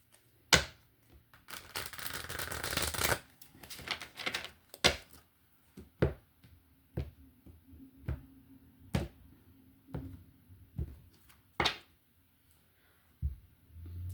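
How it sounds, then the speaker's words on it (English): A deck of tarot cards being shuffled in several quick riffling bursts, with soft taps and card handling between them, close and fairly quiet. "One more shuffle."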